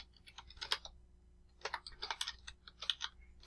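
Quiet bursts of rapid keystrokes on a computer keyboard, close and faint, coming in short clusters separated by a brief pause, with no voices.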